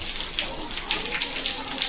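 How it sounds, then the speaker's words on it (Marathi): Steady hissing monsoon rain pours down in Konkan, India, with scattered drips and splashes in a dense continuous wash. "बघा किती पाऊस लागतो आहे कोकणामध्ये"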